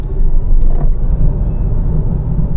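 A Kia e-Soul 64 kWh electric car rolls through city streets, giving a loud, continuous low road rumble and tyre noise from inside the cabin without engine revving.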